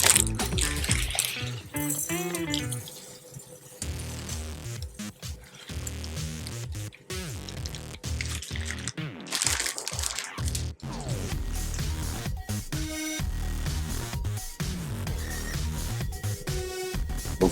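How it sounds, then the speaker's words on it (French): Risotto rice is stirred with translucent shallots in a pan, giving close, irregular scraping and soft squishing strokes with brief gaps between them. "Donc ensuite, vous allez mélanger le riz."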